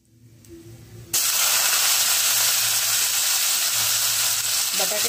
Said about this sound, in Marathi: बटाटे टाकते आणि यांना पण छान पैकी तळून घेते